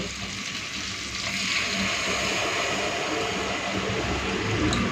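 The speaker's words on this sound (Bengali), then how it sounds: "ব্যাস দিয়ে দিচ্ছি এখন জল" Water poured into a hot pan of potato curry, a broad steady hiss that swells after the first second and holds loud and close for several seconds, with no speech.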